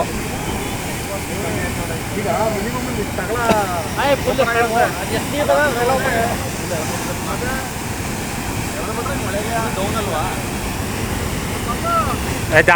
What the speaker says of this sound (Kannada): ಅಲ್ಲಿ ನೀರು ಬೀಳ್ತಾ ಇದ್ದು